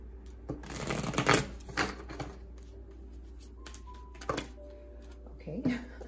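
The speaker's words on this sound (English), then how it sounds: "One more shuffle." A tarot card reader shuffles a deck with several quick riffling bursts and crisp card slaps, loudest early and then sporadic, over a low steady hum.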